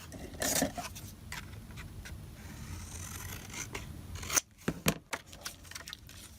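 Scissors trim a rubber stamp at a crafting table, heard as a few short, close snips and light clicks near the end after quieter handling of paper and tools.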